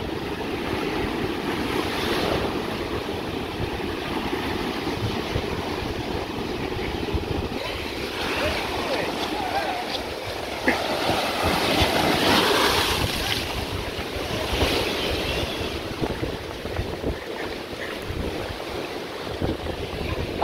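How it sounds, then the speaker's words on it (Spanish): Strong Pacific Ocean waves crash and surge continuously, a loud broadband roar that swells and recedes, with heavy wind buffeting the microphone throughout and no voices. "con la fuerza que avanza el mar Pacífico."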